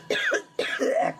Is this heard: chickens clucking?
no